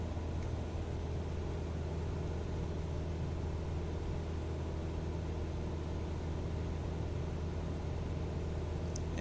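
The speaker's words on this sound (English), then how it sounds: "Very smooth gentle takeoff there." A steady aircraft engine drone in Microsoft Flight Simulator right after takeoff from Renton near Seattle, a constant low rumble with no change in pitch throughout.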